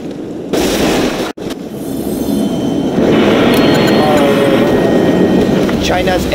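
Chinese air force aircraft and gunfire roar through a loud battle in Command & Conquer Generals Zero Hour, a dense continuous rumble with bursts and explosions, and voices are heard over it.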